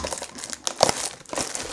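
A mystery mini toy package is unwrapped up close, with short bursts of crinkling plastic and foil and a few quick tearing rustles.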